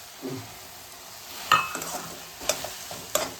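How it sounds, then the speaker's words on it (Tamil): Pineapple pieces sautéing in ghee for pineapple kesari, stirred with a spoon that scrapes the pan and knocks against it a few times over a soft, low sizzle. "இது நல்லா வதக்கட்டும், அப்போ தான் நல்லா இருக்கும். நெய்யிலே வதக்கிடும் உங்களுக்கு"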